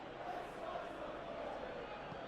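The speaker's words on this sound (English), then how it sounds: "the crowd have tried to spark some excitement, but to no avail" Football stadium crowd at Villa Park during a Premier League match between Aston Villa and Tottenham, a dense, distant roar of massed voices holding steady throughout, with no distinct chants standing out.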